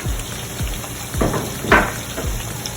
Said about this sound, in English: so now I'm adding my chopped garlic, just like so